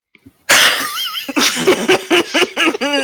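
One loud, close human sneeze bursts out suddenly after a brief quiet intake, followed by a few short breathy, laugh-like sounds.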